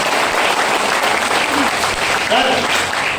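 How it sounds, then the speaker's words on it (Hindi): Dense audience applause at an RCM business speech event fills the whole stretch, a loud, steady wash of many hands clapping with voices mixed in underneath. "ताली मर्दों वाली बजा लीजिए साथियों में"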